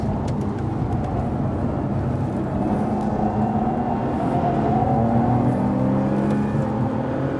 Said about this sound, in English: Right, get on those brakes, slow it down.